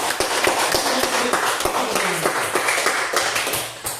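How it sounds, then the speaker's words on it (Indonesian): A classroom group claps hands together in a tutoring session, a fairly loud, continuous patter of many palms with a few sharper accents, close by and without talk. "Silakan tepuk tangan"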